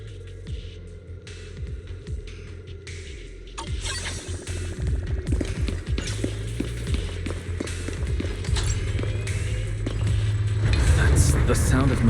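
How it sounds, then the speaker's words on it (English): Machinery running in the video game Zenless Zone Zero: a steady low hum and throbbing drone with repeated mechanical taps and clanks that grows louder and busier partway through. "That's the sound of machinery."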